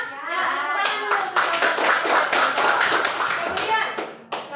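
Classroom applause from a group of students, many hands clapping in a dense, steady patter that starts after a brief pause and carries on loudly to the end, with a few sharp single claps near the close.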